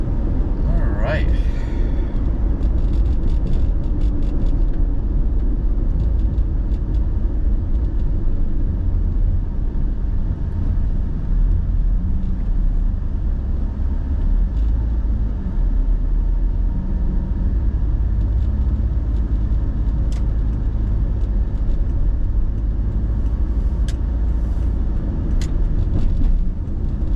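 A car drives along a road in Malaysia, its steady engine and tyre rumble rising as it accelerates, with someone talking over the continuous road noise throughout.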